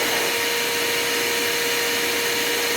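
A HAUSHOF 4-gallon wet/dry upholstery vacuum cleaner runs in blower mode, giving a steady, loud whooshing roar with a constant motor whine throughout, and no voices.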